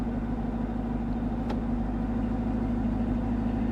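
A Chevrolet Camaro SS at an auction yard running in gear, its engine holding a steady low rumbling idle close by with no pauses.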